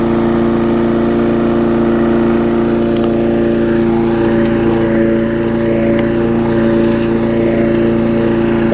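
A Murray lawn mower engine runs at a steady idle close by, a constant even drone with no voices over it.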